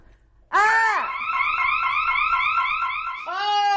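A loud electronic emergency siren, set off by a scream, wails continuously, sweeping up and down in rapid repeating cycles, starting abruptly after a brief quiet moment.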